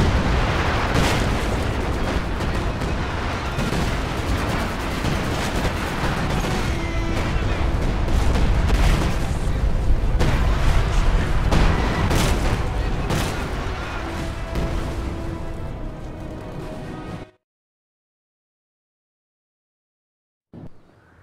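Artillery fire in the video game Company of Heroes 2: a long battlefield barrage of heavy booms and blasts with rattling gunfire and a voice speaking over it, cutting to silence near the end before a brief final sound.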